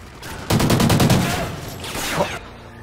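Rapid burst of gunfire in the video game Call of Duty: Ghosts, a loud volley of several quick shots followed by a fainter trailing shot and echo, with no talk over it.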